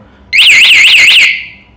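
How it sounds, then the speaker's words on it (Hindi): A bicycle LED light's anti-theft alarm shrieks when tampered with, a loud warbling electronic siren lasting about a second before cutting off. "सो इस तरीके का कुछ आपको अलार्म सुनाई देता है."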